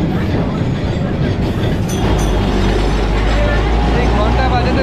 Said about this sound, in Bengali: এই ঘন্টা বাজাতে বাজাতে ট্রাম চলেছে।